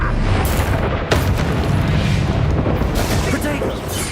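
Repeated Bombarda spell blasts in Hogwarts Legacy, with booming explosions and dense rumbling battle noise running continuously and loud throughout, and a voice speaking over the din.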